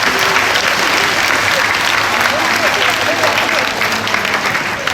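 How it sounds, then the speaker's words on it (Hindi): Loud, steady applause from the audience at a Bihar Earth Day 2017 ceremony, dense clapping sustained evenly throughout with faint voices mixed in. "जोरदार तालियां आप सबको से।"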